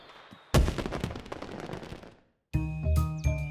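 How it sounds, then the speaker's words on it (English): Cartoon fireworks go off in a sudden burst of rapid crackling bangs that fade out, then after a short silence a bright, tonal musical passage follows. "You can't stop the bangs, but you can help them be quiet. Fireworks."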